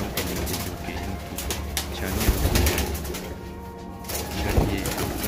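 Pigeons kept at a farm house coo softly amid a busy outdoor background, low murmuring calls and occasional wing movement repeating throughout, with no one speaking.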